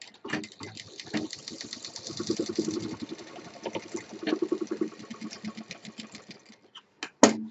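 A sewing machine runs a straight seam on a triple-zip shoulder bag, its rapid needle chatter rising and falling in close bursts for several seconds before a sharp clack at the end.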